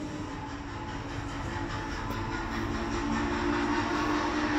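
German G-gauge model trains run at a train museum, a steady rolling rumble with a faint hum that slowly grows louder, with no talk.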